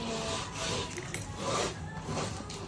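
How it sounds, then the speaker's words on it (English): Wooden chopsticks being sanded by hand with sandpaper, a steady close rasping rub that swells and fades in repeated strokes over a low background murmur. "After that, we can use sandpaper."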